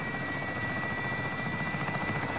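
A helicopter flies in the Call of Duty Warzone game, its rotor producing a constant, loud, droning chop with a steady high whine, nearby and unbroken throughout.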